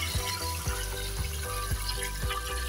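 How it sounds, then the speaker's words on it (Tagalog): Water pours out of a tilapia tank drain in a steady, loud gush and gurgle, with a low pulsing thud repeating about twice a second underneath. "dito tayo nagdi-drain ng tubig. So ito po yung labasan ng tubig natin."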